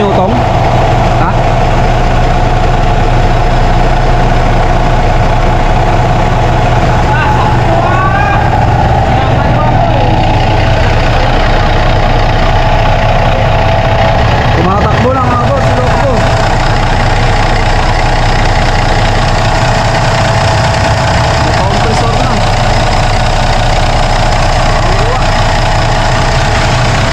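A new compressor runs with a loud, steady low-pitched engine drone and rattling throughout, while people talk intermittently over it.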